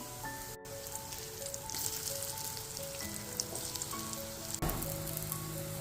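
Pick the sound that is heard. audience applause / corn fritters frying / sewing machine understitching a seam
corn fritters frying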